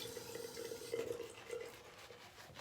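Water is added to shaving lather with a soft, close trickle and gurgle that lasts a couple of seconds and then thins into quiet wet movement.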